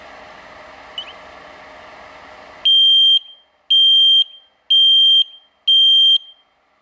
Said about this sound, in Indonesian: Kita akan tes seberapa kencang buzzer ini.